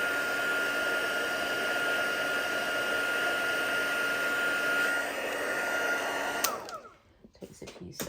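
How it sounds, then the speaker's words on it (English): A heat gun blows steadily while drying watercolour paint, a loud continuous whine and rush of air that cuts off abruptly near the end, leaving near silence with a few faint handling sounds. "dry it with my heat gun"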